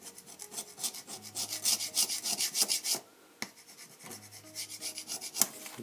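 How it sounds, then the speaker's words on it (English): Tungsten carbide hand scraper rasping old gasket material off a motorcycle engine casing, a fast run of close, bright scraping strokes, a brief pause, then more irregular scrapes. "Got a new tungsten carbide scraper, let's give that a go."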